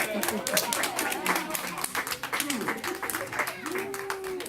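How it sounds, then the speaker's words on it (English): Clapping and applause from a small group, steady and continuous, with voices talking over it throughout. "Give a nice big round of applause, everybody."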